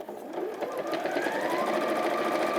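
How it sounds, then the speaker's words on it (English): A sewing machine runs steadily, close up, stitching down a long fabric edge, with a continuous whirring hum that rises slightly in pitch, and no talk. "And then just sew down that long edge."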